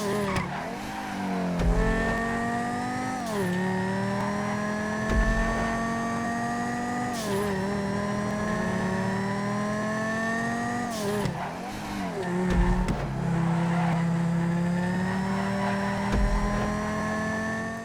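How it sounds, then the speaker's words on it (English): GTA video game car engine revving and repeatedly bogging down, pitch rising then dropping as it shifts, with occasional tire squeals, loud and continuous. "did you hear in that second example how the engine really bogged down a lot?"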